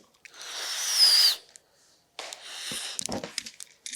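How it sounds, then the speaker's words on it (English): A person blows air into a balloon attached to a toy car. A breathy blowing rush lasts about a second, and after a pause there is a second breathy burst mixed with small rubbery squeaks and clicks, heard close with no talking. "Now, when I blow this balloon"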